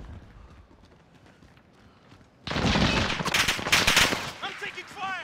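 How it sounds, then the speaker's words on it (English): Call of Duty: Modern Warfare gunfire opens up after a quieter stretch: a loud, dense burst of rapid automatic shots and cracks lasting a few seconds, close and harsh, with faint talk before it. "I'm taking fire."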